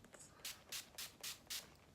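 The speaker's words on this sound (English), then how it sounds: "I'm going to take my setting spray, the NYX Dewy Finish setting spray" NYX Dewy Finish setting spray is spritzed in five quick, evenly spaced hissing bursts, close up and fairly quiet, with no talking.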